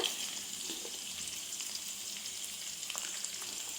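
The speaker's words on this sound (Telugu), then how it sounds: "వీటిని కూడా ఫ్రై అవ్వనివ్వాలి. మధ్య మధ్యలో తిప్పుతూ ఉండాలి అడుగంటకుండా." Ivy gourd pieces frying in a pan for a chutney, giving off a soft, continuous crackling sizzle with faint pops throughout.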